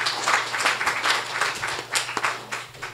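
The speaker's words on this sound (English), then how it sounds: "applause." Applause from a church congregation at a Sunday morning service, a steady patter of many hands clapping at moderate distance with a low hum underneath.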